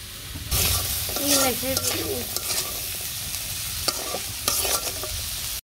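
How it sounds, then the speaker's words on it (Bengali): Vegetables with green chillies, chilli and turmeric fry in oil in a pan while being stirred, a loud, close, steady sizzle with brief scraping knocks of the utensil. "একটু নাড়াচাড়া দিয়ে দিই"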